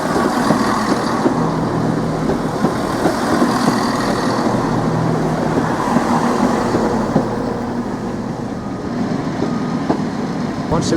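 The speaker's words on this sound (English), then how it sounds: "we've got a Turbostar unit now, arriving to Norwich station from Cambridge" A Class 172 Turbostar diesel unit pulls into Norwich station from Cambridge, a continuous loud rumble of engine and wheels on rail with squealing tones, sustained throughout the platform recording.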